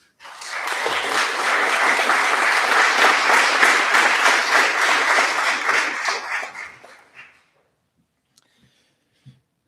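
An audience at an academic symposium panel applauding, a dense, loud, steady burst of clapping lasting about six seconds that fades out, followed by near silence with a couple of faint knocks.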